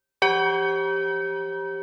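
A single church bell in a town rings once with a sharp strike, then its bright, layered tone hangs and slowly fades, loud and close in otherwise quiet air.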